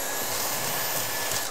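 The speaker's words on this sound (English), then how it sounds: "Don't tell my wife I'm using the good vacuum" A household vacuum cleaner runs in a home under renovation, giving a steady whooshing drone with a faint high whine and no breaks, alone without talk.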